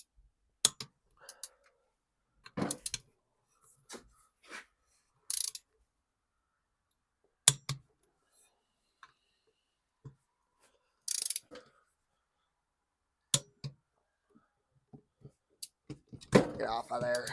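Torque wrench clicking as it tightens the bolts on an Arctic Cat hex clutch to 15 foot-pounds: a series of short, sharp ratcheting clicks in separate bursts, with quiet gaps between them.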